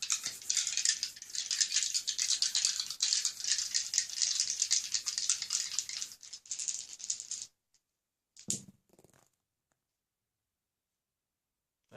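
Three twenty-sided dice clatter and rattle across a hard surface in a busy, close tumbling patter for several seconds, then come to rest with a couple of last faint clicks before silence.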